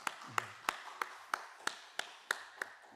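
In a Korean church worship service, a congregation claps hands in blessing with nine evenly spaced, fairly faint claps in a slow, steady rhythm inside a quiet room.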